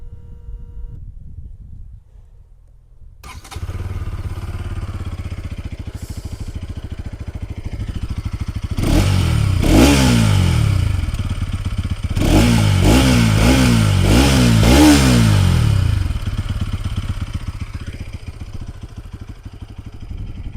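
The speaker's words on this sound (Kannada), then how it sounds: "ಸೈಲೆನ್ಸರ್ ಇದು ನೋಟ್ ಕೇಳ್ಕೊಂಡು ಬರೋಣ ಯಾವ ಥರ ಬರ್ತದೆ ಅಂತ." Bajaj NS 200 motorcycle exhaust heard close up, starting to a steady idle, then several sharp throttle blips and revving bursts before settling back to idle.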